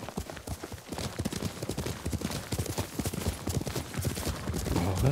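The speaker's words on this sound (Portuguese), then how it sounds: "Sozinha anda bem de cavalo, velho." Horse hooves galloping in the video game Ghost of Tsushima, a fast steady clip-clop rhythm running throughout, loud and close, with some faint voice in the background.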